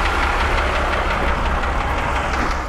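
A street sweeping machine runs with a steady, loud, dense engine and mechanical rumble, continuous and close throughout.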